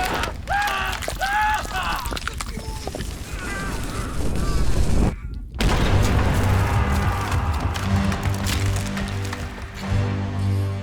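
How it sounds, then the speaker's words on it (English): A cannon fires on a ship in the video game Return of the Obra Dinn, with heavy booms and rumbling blasts amid dense game music and effects, a brief silent gap midway, then continuing sustained tones. "they were trying to fire a cannon"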